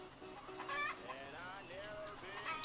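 Barred Rock chickens cluck and murmur close by in a series of short, varied calls, faint overall with a soft background hiss.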